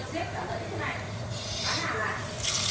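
Water runs from a kitchen pot filler tap into a cooking pot, a soft, steady hissing gush that swells in brief bursts, quiet and close.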